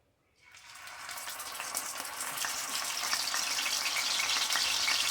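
Peppers and other vegetables sizzle in a hot pan, starting from near silence and rising into a steady, close, crackling fry that grows slightly louder throughout.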